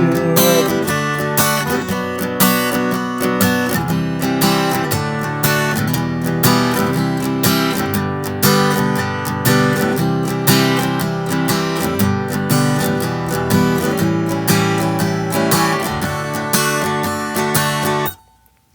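Continuous rhythmic strumming of chords on an acoustic guitar, steady eighth-note pattern for about eighteen seconds, ending abruptly.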